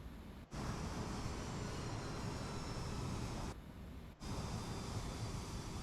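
A Fokker F70 airliner on approach in MSFS 2024, a steady broad roar of engines and airflow inside the cabin, dropping out twice in brief gaps, no talking.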